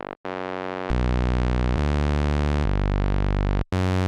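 A loud, bright synth tone from detuned analog saw and triangle oscillators holding steady pitches, stepping down through several sustained notes with buzzy, harmonically rich timbre and brief gaps between them.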